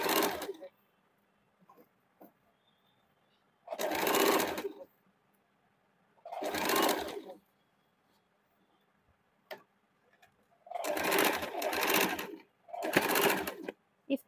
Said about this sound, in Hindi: आराम से धीरे-धीरे सिलाई चलाना है